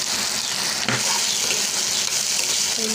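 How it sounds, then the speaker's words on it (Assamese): Potatoes fry in a pan with a constant, bright hiss of oil. A single knock and a few faint scrapes sit under the sizzle, which stays close and fairly loud throughout. "অকণমান এনেকৈ ফ্ৰাই কৰি লৈছোঁ আলুখিনি।"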